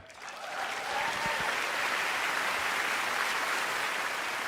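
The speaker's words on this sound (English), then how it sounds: "so clap it up for that" An audience bursts into applause for filmmaker Ryan Coogler, swelling within the first second into a thick, steady wash of clapping that continues evenly to the end.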